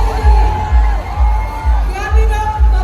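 A big crowd at a Duterte political rally in Davao City shouts and cheers loudly and continuously, with whoops and yells rising in repeated surges over a dense roar of voices.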